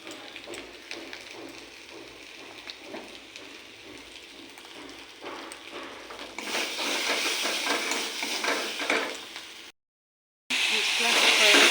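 Potatoes and spices fry and stir in a pan with a steady crackling sizzle that grows louder partway through, briefly cuts out, then returns, and a voice speaks over it.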